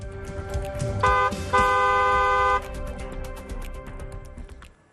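Two blasts from a car horn, a short toot followed by a longer sustained honk, loud and close against low traffic rumble.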